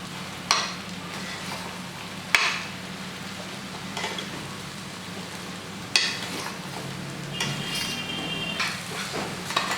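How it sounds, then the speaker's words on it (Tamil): Chili powder and coriander powder sautéing in a pan with crab pieces for a crab curry, giving a quiet steady sizzle broken by a few sharp stirring clinks of a spoon against the pan. "மிளகாத்தூளும் தனியாத்தூளும் நல்லா வதங்கணுங்க. கிராப்போடு சேர்ந்து நல்லா வதங்கணும்."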